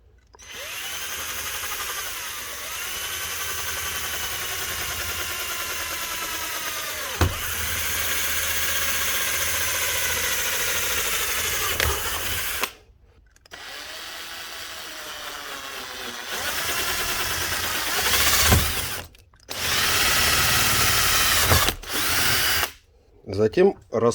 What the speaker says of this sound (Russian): Сначала тоненьким сверлышком.